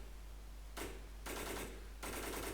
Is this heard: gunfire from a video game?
yes